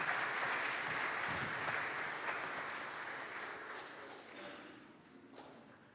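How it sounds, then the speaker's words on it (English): A church congregation at a bilingual Pentecost service applauds together, a dense patter of clapping that starts loud and gradually thins and fades. "Let's give him a round of applause."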